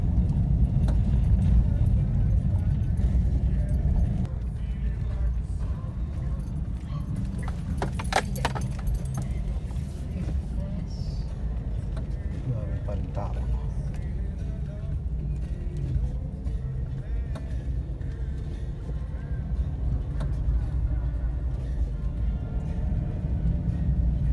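A car drives slowly through Santa Cruz Memorial Park and pulls in to park beside another car, with a steady low engine and road rumble and brief rattles, as people talk quietly inside.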